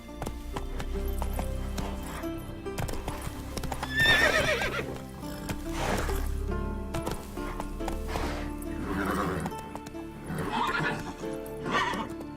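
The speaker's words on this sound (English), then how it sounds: "Run, Roach." Roach, a horse in The Witcher 3, gallops with steady clip-clopping hoofbeats and gives several loud whinnies over a continuous game music bed, with no talking.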